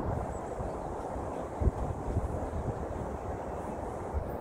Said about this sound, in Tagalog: So, mahangin na.